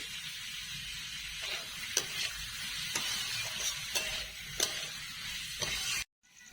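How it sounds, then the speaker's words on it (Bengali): Carrots with a little salt frying in oil, a dense continuous sizzle with regular sharp stirring clicks about once a second, cutting off abruptly at the end. "গাজরটা প্রায় ভাজা হয়ে এসেছে,"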